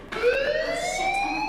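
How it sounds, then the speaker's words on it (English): Fire alarm in the game Life Is Strange, a loud steady electronic siren with rising wailing tones, continuous and close with no talk over it. "Hey, do you hear that fire alarm?"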